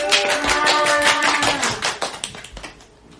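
An audience claps for a guest at a picture-book discussion session, a burst of hand claps over soft tonal music that thins into scattered claps and fades out.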